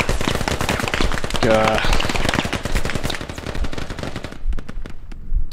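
Rapid automatic gunfire and scattered shots from the military shooter game Squad on the Kokan Valley map, dense, loud bursts crackling throughout, with people talking over the shooting.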